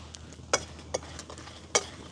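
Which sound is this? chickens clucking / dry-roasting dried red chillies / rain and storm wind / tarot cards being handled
dry-roasting dried red chillies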